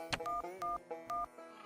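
Touch-tone dialing on a telephone, three short electronic beeps in steady succession, close and fairly quiet.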